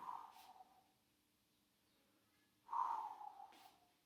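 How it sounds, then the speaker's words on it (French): Two forceful exhalations during a dynamic core-strengthening workout, each a short breathy rush of air, the first trailing off and the second coming after a quiet pause, close and fairly soft. "Dès que vous posez le pied, vous soufflez."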